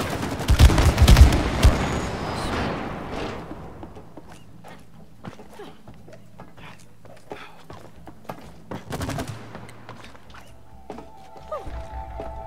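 Gunfire at a wall in the video game It Takes Two, with a loud burst of rapid shots at the start followed by scattered lighter impacts and clatter, no voices.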